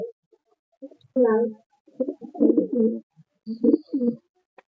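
Giribaj and Madras pigeons coo in short, throaty bursts, close by and moderately loud, with quiet gaps between the calls.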